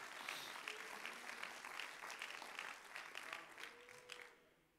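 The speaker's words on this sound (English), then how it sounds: "Clap your hands to the Lord all over the building." Church congregation clapping hands together throughout the sanctuary, a dense, steady patter of many hands that holds for several seconds before thinning out at the end.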